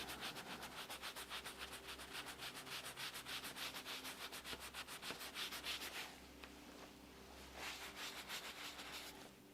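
Steady, rapid rubbing as a watercolor painting is burnished by hand, close and fairly faint with a fast repeating scrubbing rhythm that eases briefly partway through before resuming.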